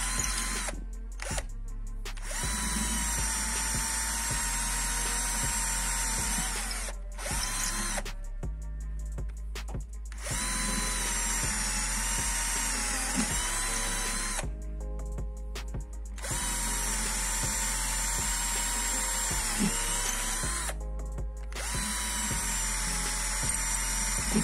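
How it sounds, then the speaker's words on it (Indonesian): A RYU RCI20V cordless impact drill bores into wood in repeated bursts, a loud, close high whine broken by brief pauses between holes, with no talk. "sekarang kita coba beberapa pengeboran lagi seperti apa"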